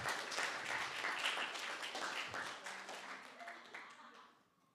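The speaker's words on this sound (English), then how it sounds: "can we get one last round of applause?" A symposium audience gives a final round of applause, full crowd clapping that starts strong, then gradually thins and fades out, with faint voices near the end.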